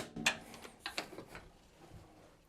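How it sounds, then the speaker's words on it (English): A small wrench tightens a nylon lock nut on the wheel of an outdoor prep dining table, a few close, quiet metallic clicks and ratcheting taps in a short uneven burst, fading toward the end. "Okay, so I'm just going to hold that nut with this little wrench."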